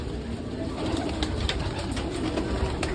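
Racing pigeons in a loft with dense cooing and bird calls throughout, a steady close murmur of birds with scattered brighter calls.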